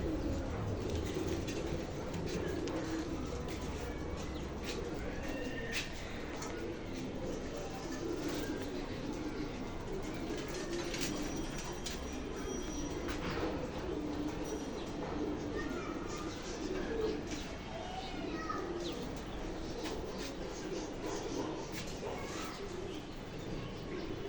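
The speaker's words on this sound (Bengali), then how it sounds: "এই খাঁচার কবুতর গুলা এখানে" Caged pigeons in a loft give soft, repeated low coos over a constant background hum, with occasional chirps from other birds mixed in.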